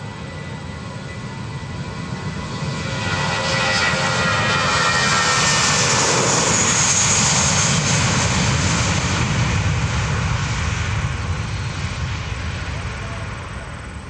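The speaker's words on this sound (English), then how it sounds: "Let's listen to the sound of commercial air power, courtesy of Spirit Airlines." A Spirit Airlines Airbus A320 jet takes off at an airshow in Westmoreland County, a loud, broad jet-engine roar that swells to a peak mid-way and then slowly fades as it climbs away, with no talk over it.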